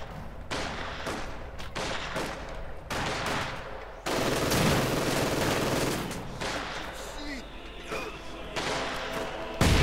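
Gunfire and mortar fire in the video game Company of Heroes 2, with dense bursts of rifle and machine-gun shots and heavier booming impacts, loud and continuous, with a commentator talking over the battle.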